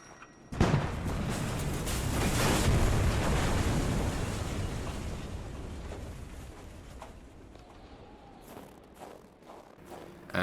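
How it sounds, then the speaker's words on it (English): Dynamite blows open a blocked path in the video game Kona: a sudden heavy blast followed by a long rumbling roar that slowly fades over several seconds, with no voices. "we need to use our dynamite on the blocked path and run away until we are at a safe distance"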